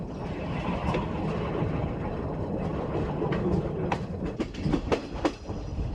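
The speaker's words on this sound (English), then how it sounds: "Early in the morning, the train bound for Gabes leaves Tunis," A train bound for Gabes pulls out of Tunis, Tunisia, early in the morning, with steady rolling rumble and rhythmic clickety-clack of wheels on rails, close and continuous throughout.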